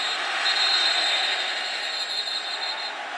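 A West Virginia Mountaineers home crowd roars in a college football stadium during a game against Texas, a loud, steady, broadband wash of cheering that continues without a break.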